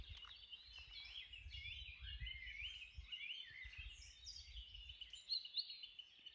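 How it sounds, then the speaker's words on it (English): Several birds, including blackbird and robin, sing outdoors in Italy: faint, overlapping chirps and warbling phrases carry from a distance over a low rumble, with no talking. "There's a lot of birds singing here."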